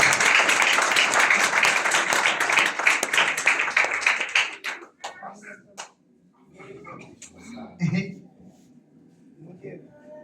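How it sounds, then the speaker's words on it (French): Dense audience applause at a pastor's church conference fills the first few seconds, then tapers off into scattered claps and murmuring voices. "On nous applaudit non encore. On nous applaudit."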